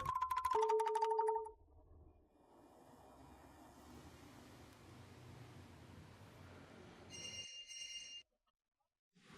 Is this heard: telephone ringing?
yes